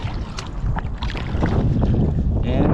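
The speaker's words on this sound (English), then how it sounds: "it is going to be windy today." Gusty wind buffets the microphone while kayak fishing on open water in early spring, a steady broadband rush with lapping water noise throughout.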